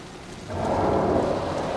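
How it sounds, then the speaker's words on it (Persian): Rain and thunder in the video game Metro Exodus: steady rainfall hiss that swells into a louder, rolling thunder rumble midway and stays heavy to the end, with no voices. "بله صدای بارون هم به گوش میرسه"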